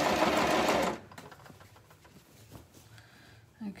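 A sewing machine set to zigzag stitch runs around fabric for a shopping basket bag, loud and close for about a second before stopping. Quieter handling of the fabric follows, with a brief bump near the end.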